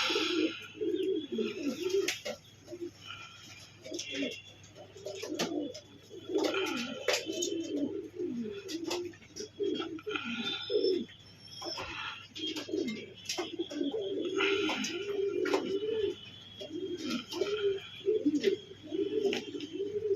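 Pigeons cooing, repeated soft throaty coos overlapping in slow bursts, close by, with faint chirps and a low background hum, no clear speech.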